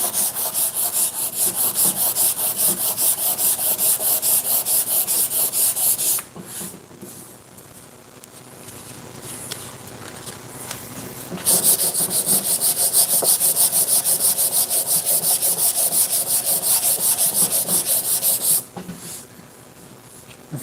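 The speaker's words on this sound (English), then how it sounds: "I was really not expecting to be able to sand it." Hand sanding of dried wood filler, a rasping back-and-forth scrub in fast, steady strokes, loud and close, pausing briefly twice before resuming.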